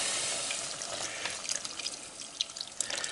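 Beef broth poured from a large 48-ounce container into a pot, a close, steady liquid splash and gurgle with faint sizzle-like hiss, no voices.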